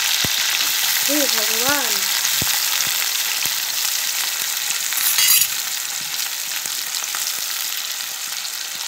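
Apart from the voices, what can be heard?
oil splattering while frying eggs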